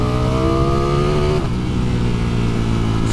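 A 2020 Ducati Streetfighter V4 roars close up as its engine revs hard, a loud rising tone that breaks off and settles into a steady deep drone.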